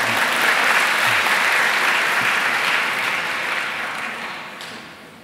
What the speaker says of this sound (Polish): Brawa, brawa, brawa.